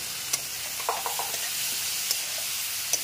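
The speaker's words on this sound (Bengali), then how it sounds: "মশলাটা দেওয়ার পরে এটাকে একটুখানি নাড়িয়ে দেবো" A potato and pointed gourd curry with spices fries in a pan and is stirred, giving a steady close sizzle with a few light scrapes and clinks, and no voices.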